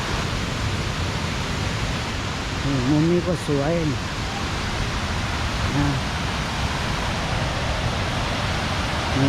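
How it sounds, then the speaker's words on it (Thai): Tat Kuang Si waterfall in Luang Prabang pours down in several tiers, a steady broadband rush of water that fills the scene from start to finish, with someone speaking briefly over it. "มุมนี้ก็จะเห็นน้ำตกได้หลายระดับ"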